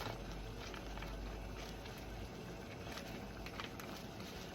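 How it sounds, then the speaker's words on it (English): Water boiling in a pot for oatmeal, a continuous faint bubbling and crackling hiss that holds steady throughout with no voices. "my water is boiling"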